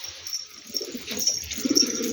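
A pigeon gives soft, low coos in short rolling bursts close by, with a faint high hiss and slight rustling behind it.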